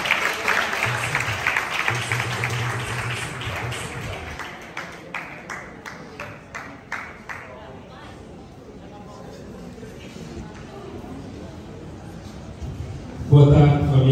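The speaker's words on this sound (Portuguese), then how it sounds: "com uma grande salva de palmas" An audience at a Novembro Azul workshop bursts into applause that thins into scattered separate claps and fades out, followed by quiet room sound and then a voice starting to speak.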